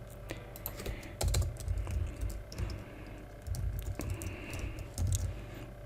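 Code typed on a computer keyboard, a quick run of close, crisp keystrokes in uneven bursts with short pauses, steady and moderately quiet with no talk.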